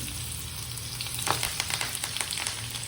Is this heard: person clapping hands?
no